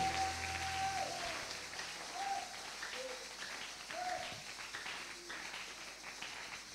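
A congregation at a church seminar claps and cheers in praise, a continuous crowd applause held at an even level throughout, with faint sustained tones beneath.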